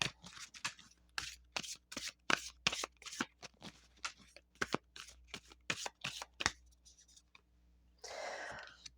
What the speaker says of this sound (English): Let's pull your affirmation card.